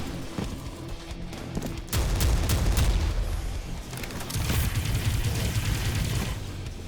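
Rapid blasts from an auto shotgun in the video game Prodeus, a dense run of booming shots rolling together with heavy low-end thumps, loud and continuous across the whole stretch with no talking.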